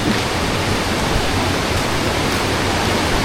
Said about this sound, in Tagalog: Naririnig nyo ba ang tubig?